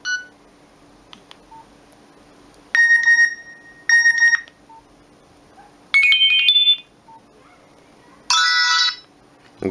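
A Nokia 1680 phone sounds its alarm clock ringtone: repeated loud bursts of shrill electronic beeping and warbling tones separated by short pauses, close and alone over a faint hum.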